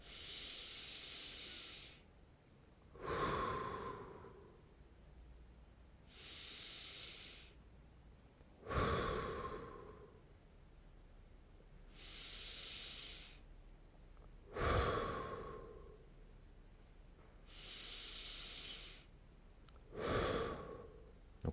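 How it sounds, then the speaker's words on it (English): Slow, deep breathing during a warm-up exercise of breathing into the back: four long, airy inhales and exhales come in an even rhythm, each a soft hiss that swells and fades, close and quiet with no talking. "with the intention of breathing into the back"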